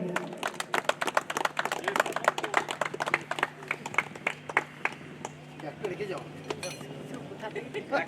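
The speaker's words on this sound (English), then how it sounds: "Please clap for him." An audience at an award event claps for a cricket player with scattered, crisp claps and sharp clinking hits that rise and fall in density over a low hum, thinning toward the end.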